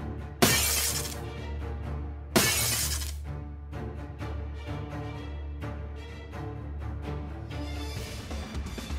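Glass shatters in Honkai Impact 3rd in two sharp, loud crashes a couple of seconds apart, each followed by tinkling debris and a lingering musical score beneath.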